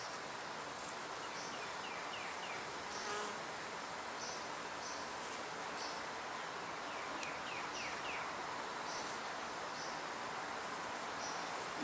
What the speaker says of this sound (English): There's enough bees in here to save this hive.